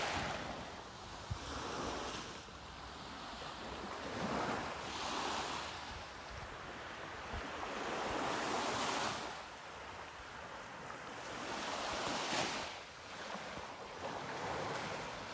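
Waves break and wash onto the beach at Tekirdağ in slow, repeating surges, with wind buffeting the microphone and no voices.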